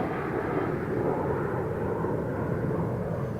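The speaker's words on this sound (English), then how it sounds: "737-800 to Puerto Plata?" A Boeing 737-800 jet airliner bound for Puerto Plata at Toronto Pearson gives a steady, moderately distant roar of engines that holds even and unbroken throughout.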